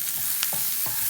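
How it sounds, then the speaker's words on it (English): Green chilies fry in hot oil for a spicy Andhra pachadi, a constant bright sizzle with a few brief scraping stirs of a utensil in the pan. "Let the green chilies fry a tad bit in the oil."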